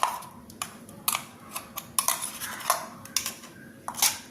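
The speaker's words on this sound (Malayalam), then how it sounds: "ഞാനിതൊരു പാത്രത്തിലേക്ക് മാറ്റുകയാണ് ഒരു പാത്രം പാത്രം എടുത്തിട്ടുണ്ട്" Amla buttermilk curry is scooped into a metal pot, with a series of sharp metallic clinks and scrapes of a utensil against the vessel, close and fairly quiet.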